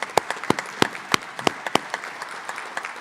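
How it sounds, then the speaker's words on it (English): Applause at an ambulance service graduation ceremony: a handful of loud, sharp, nearby claps in an uneven rhythm stand out over a softer spread of clapping from the wider audience. "to the AMR family, a big round of applause."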